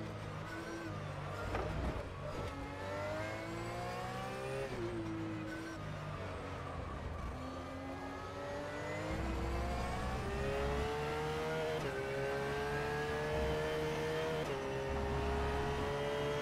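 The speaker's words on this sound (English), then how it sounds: "I heard car sounds around me." GT3 race cars lap Silverstone in the racing simulator rFactor 2, engines whining and rising in pitch through repeated gear changes, with other cars audible nearby, steady and moderately loud throughout.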